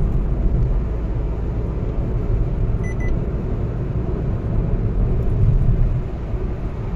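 Maruti Suzuki Wagon R 2023 petrol hatchback accelerating in fifth gear on an open road, a steady engine drone with road and wind rumble, fairly loud and continuous, with no talking.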